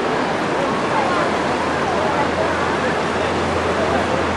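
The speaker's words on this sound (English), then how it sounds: "可以听到 sound of the waterfall flowing" Steady, dense rush of a waterfall flowing at Jiuzhaigou, close and loud, a constant broadband roar with a low hum underneath and no clear speech.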